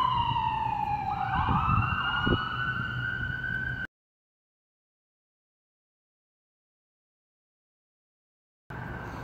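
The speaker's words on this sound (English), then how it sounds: "I'm gonna mute it for a second because there's a siren going by" A wailing emergency siren sweeping downward in pitch as it passes close by, cut off abruptly into silence before faint background noise returns.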